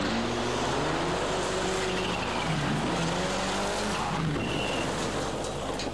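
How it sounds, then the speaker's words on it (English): Rally car powering along a gravel stage in Rally Wairarapa, New Zealand, its engine note rising and falling steadily for several seconds, loud and fairly close, with tyre and gravel noise underneath. "the next car through is Glenn Inkster"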